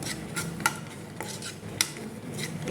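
Sesame seeds, peanuts and dried red chillies tossed in a pan with ghee for a brinjal spice mix, with metal spoon scrapes and a couple of sharp clinks against the pan over a soft steady hiss.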